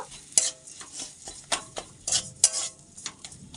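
Fish cooked on very low heat in a pan with sugar and salt, stirred in quick bursts of metal-on-pan scrapes and clinks over a faint sizzle, close and fairly loud, with no voices.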